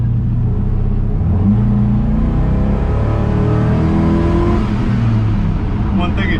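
Restomod car driving along a road and accelerating, a steady engine drone with rising harmonics and constant road noise heard from inside the cabin, with talking over it.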